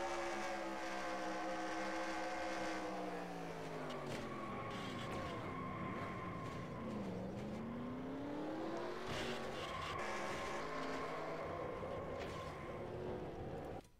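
NASCAR stock cars in the NR2003 racing sim pile into a wreck during a league race, with layered engine drones sliding down and up in pitch and hints of tire squeal, steady and close throughout.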